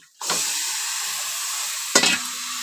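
Chicken pieces drop into hot frying spice paste in a Bengali home kitchen, setting off a steady loud sizzle, with a second sharp burst of crackling as more meat goes in.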